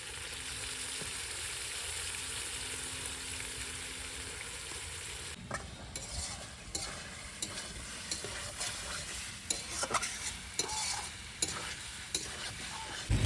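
Fried potatoes cooked with ginger, garlic, onion, chili and cumin for a rohu fish curry hiss and sizzle steadily in a pan, followed by scraping stirs and clatters of a spoon against the pan in an irregular rhythm.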